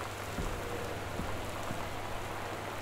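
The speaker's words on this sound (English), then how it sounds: "It's raining." Steady rain falls in the video game Gone Home, a dense constant hiss of drops on surfaces with a few faint low knocks, heard alone without any voices.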